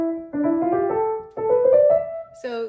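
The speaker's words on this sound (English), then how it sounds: "The Opus 100, number 2 sounds like this." Piano playing Burgmüller's Arabesque, Op. 100 No. 2, loud and close, with quick repeated notes in two short phrases followed by a final chord.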